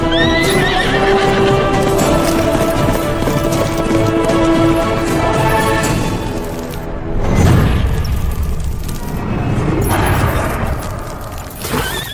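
Horse neighing and galloping in a dubbed South Indian period action film, with loud whinnies over steady thudding hoofbeats and a dramatic orchestral score running throughout.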